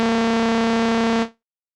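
A sustained wavetable synthesizer bass tone hums with a bright, buzzy timbre, holding steady for about a second before cutting off abruptly into silence.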